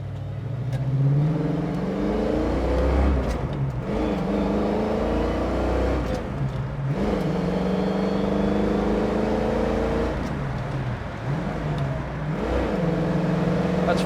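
A 1970 Ford Mustang Mach 1 engine revs up repeatedly as the car accelerates through its gears, each climb in pitch broken by a short dip at the shift, loud and close throughout.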